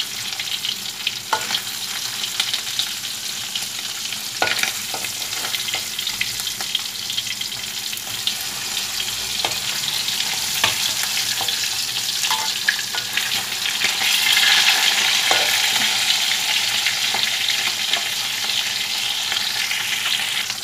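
Mackerel fries in hot, spattering oil, a loud continuous crackling sizzle with scattered pops that swells louder near the end.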